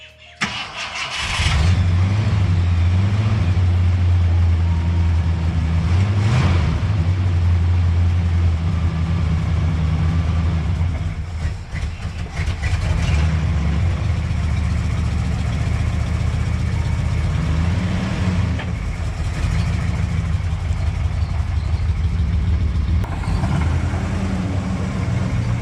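A 1967 Ford Country Sedan's engine runs steadily at close range, its low rumble rising and falling as the car creeps forwards and back in a driveway, with a few sharper revs along the way and no talking.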